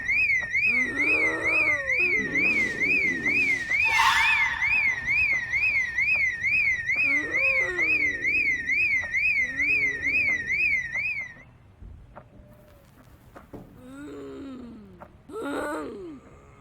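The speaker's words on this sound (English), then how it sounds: "Damn alarm!" A store burglar alarm blares in Project Zomboid, a steady warbling electronic tone pulsing rapidly and loudly for about eleven seconds, layered with groaning zombie moans, before cutting out and leaving scattered moans behind.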